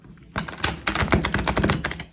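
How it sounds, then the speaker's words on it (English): A deck of glossy tarot cards is rifle shuffled, giving a rapid burst of crisp, close flicking riffles lasting about two seconds. "I can't do the rifle shuffle with an awful lot of the oracle cards that are really wide"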